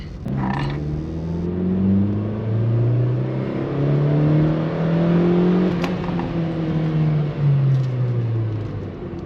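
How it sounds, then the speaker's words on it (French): A Toyota Corolla GTI E100 engine running without an air filter drones and rises and falls in pitch with a hollow, breathy intake roar, steady and close for the whole stretch. "rouler sans filtre à air, ça faisait un peu plus de bruit, ça fait un bruit d'aspiration"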